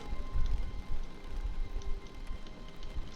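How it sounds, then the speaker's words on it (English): Rain falls in The Stanley Parable's office setting, a soft, steady patter on surfaces with a few scattered drops, quiet and continuous. "It sounds like it's raining, which is new."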